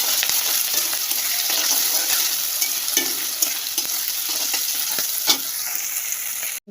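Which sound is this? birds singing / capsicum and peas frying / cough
capsicum and peas frying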